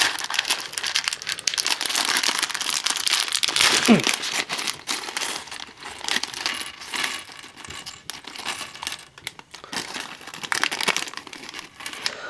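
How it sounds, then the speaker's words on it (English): Plastic bags of Lego pieces tear and crinkle open, with pieces rattling and clinking inside, in a steady stretch of close, busy crackling. "let's go ahead and rip these bags open"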